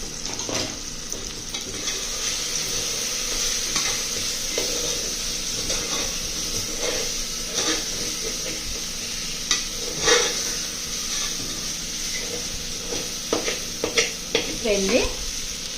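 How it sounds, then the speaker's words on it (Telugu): Ground spices and ginger-garlic paste fry in a pan for chicken biryani, a steady close sizzle with intermittent stirring scrapes and clinks throughout, no talking. "ఈ అల్లం వెల్లుల్లి పేస్ట్తో పాటు ఇది కూడా వేసి వేపుకుంటే బాగుంటుందండి."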